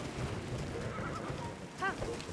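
Game horse in The Legend of Zelda: Tears of the Kingdom gives one brief, clear whinny late on, heard over a constant wash of rain-like ambient noise.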